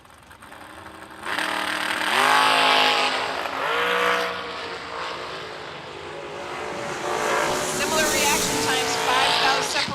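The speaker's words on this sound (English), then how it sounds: "this is our first matchup of a door car versus dragster" At a drag strip, a dragster and a door car launch and roar away, loud engine noise swelling and holding as they race down the track, with a track announcer talking over it.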